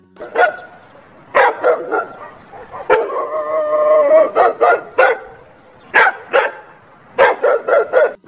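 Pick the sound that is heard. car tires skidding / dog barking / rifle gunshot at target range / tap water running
dog barking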